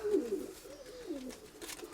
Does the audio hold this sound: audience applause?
no